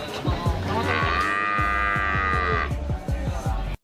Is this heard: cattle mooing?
yes